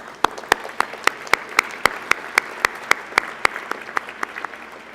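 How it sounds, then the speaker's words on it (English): At a leadership awards program, a small audience gives the awardees a round of applause, sparse, evenly spaced sharp claps standing out over a soft background for about five seconds. "let's give all of our awardees a round of applause"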